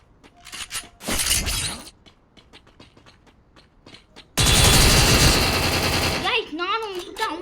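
Gunfire in the Free Fire video game: a short loud burst, then a longer sustained volley of rapid automatic shots, with scattered softer clicks and game sounds between.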